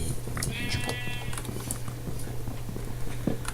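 A sheep in the Minecraft video game bleats once in a short, quavering cry over a steady low hum and light pattering game sounds.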